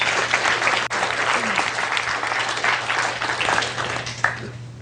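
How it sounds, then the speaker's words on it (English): An audience breaks into a round of applause at a hypnosis seminar, dense steady clapping throughout, with a brief voice heard amid it. "Give him a round of applause."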